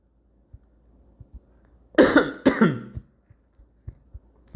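Two sharp, close coughs in quick succession, loud against an otherwise quiet room with faint scattered clicks during play of a World War II strategy game.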